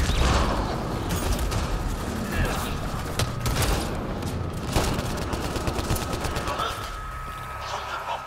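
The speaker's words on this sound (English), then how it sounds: "Shooting the living shit out of this fucker." Continuous heavy gunfire and mechanical weapon noise during a firefight aboard a Kett ship in Mass Effect Andromeda, loud and dense throughout with faint voices mixed in.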